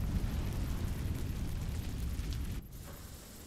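Incendio fire spell from Hogwarts Legacy burning away vines, a loud, steady whooshing roar of flame that holds for over two seconds, then drops off sharply and leaves a quieter rumble.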